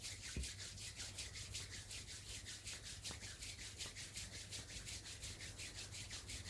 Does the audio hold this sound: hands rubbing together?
yes